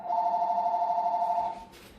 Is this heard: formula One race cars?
no